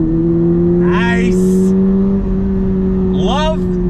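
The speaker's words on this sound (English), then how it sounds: "Love the way the car just sounds." A 2022 Toyota GR86 sports car engine drones steadily at close range, revving while accelerating under throttle, with people talking over it throughout.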